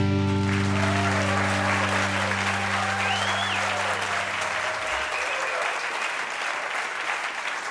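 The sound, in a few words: audience applause welcoming the podcast host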